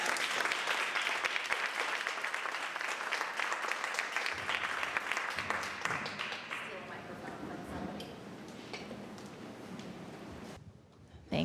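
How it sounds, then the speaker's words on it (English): Loud applause from an audience at a business talk that gradually thins and fades toward the end, with a few scattered claps and murmurs lingering. "Please give Isa a big round of applause."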